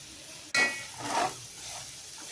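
A masala of green chillies, chilli powder and salt gets stirred in a hot pan for onion pulao. A sudden loud scrape and sizzle breaks in after a quiet start, then settles into steady frying noise.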